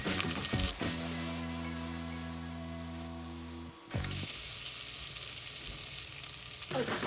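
Soaked cashew nuts frying with grated ginger and garlic in a pan for a pineapple cashew curry, a steady close sizzle with a low humming tone through the first half, then a brighter, busier crackle after a brief dip.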